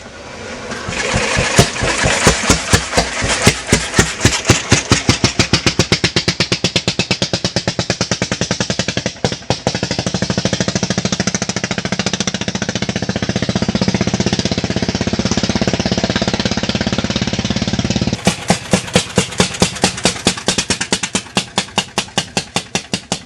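A motorcycle powered by a huge single-cylinder aircraft piston engine in a reinforced NSU Konsul frame runs with loud, slow, heavy individual firing thumps that merge into a dense roar while revving, then separate again as it settles.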